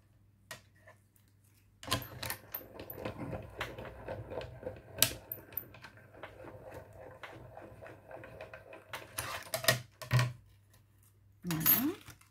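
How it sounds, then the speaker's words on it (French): An electronic cutting machine slicing a small pink paper thank-you word, giving quiet mechanical ticking and whirring under a low hum, with scattered clicks and a few louder rattling bursts. "ce que je vais faire quand j'y suis avec ma machine, je vais venir découper mon petit mot merci avec du rose"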